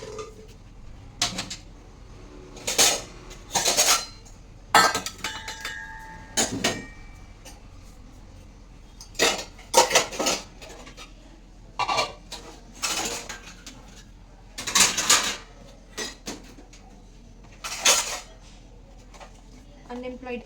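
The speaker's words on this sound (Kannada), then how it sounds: "ಸೊ ಆವಾಗ ಪಾತ್ರೆ ಒಂದು ಜೋಡಿಸಿ ಒಂದು 4 ಕಪ್ಸ್ ಇದೆ, ಅದನ್ನು ವಾಶ್ ಮಾಡಿಬಿಟ್ಟು ಸ್ಲ್ಯಾಬೆಲ್ಲ ಕ್ಲೀನ್ ಮಾಡಿದ್ರೆ ಕಿಚನ್ ಕ್ಲೀನ್ ಕಟ್ ಅಂತ ಹಿಂಗೆ ಮುಗ್ದೋಗುತ್ತೆ ಗೈಸ್" Dishes, cups and pots clatter and clink while being washed at a kitchen sink, irregular close bursts of ceramic and metal knocks separated by quieter pauses of running-water hiss.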